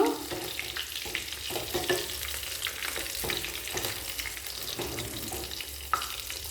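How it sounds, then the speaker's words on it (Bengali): Parshe fish coated in gram-flour batter fries over medium-low flame, making a steady, fairly quiet sizzle and crackle with occasional light scraping as pieces are turned. "মাছটাকে উল্টে পাল্টে লাল করে ভেজে নেব"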